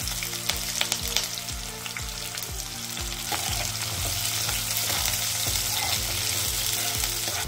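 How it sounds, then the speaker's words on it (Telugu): Cumin, mustard seeds, onions and green chillies fry in hot oil for capsicum paneer, producing a loud, dense sizzle with rapid crackling pops and occasional stirring, heard alone without speech. "అవి కొంచెం వేగినాక ఉల్లిపాయలు, పచ్చిమిర్చి వేసుకొని కొంచెం ఫ్రై అయ్యే వరకు ఉంచుకోవాలి."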